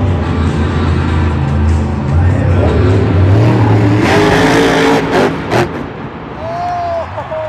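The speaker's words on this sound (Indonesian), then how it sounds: "Wah, ini ada mobil monster teman-teman." A toy monster truck gives off a revving engine sound effect, a loud roar with rising surges and a brief high whine near the end.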